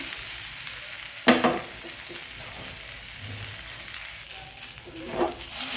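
A besan (gram flour) dosa sizzles and fries steadily in a pan after flipping, a continuous close crackle with a sharp scrape or clatter of the spatula near the start and a few softer knocks later, and no voices.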